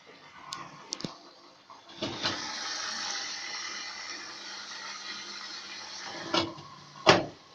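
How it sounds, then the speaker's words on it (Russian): An Ardo washing machine beginning to fill with water, a steady hissing inflow that rises after a few clicks and runs for several seconds before ending with sharp mechanical knocks. "Пошла набор воды."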